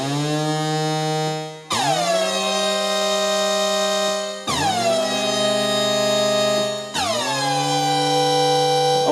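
Waldorf Blofeld synthesizer notes with pitch envelope modulation on the release, four bright buzzy horn-like tones each starting with a quick pitch swoop that settles into a sustained chord, played one after another with no talking.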